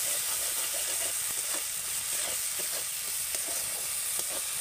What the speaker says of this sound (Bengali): এগুলোকে হালকা করে আমি ভেজে নেব, মানে মশলাটাকে খুব সুন্দর করে কষিয়ে নেব।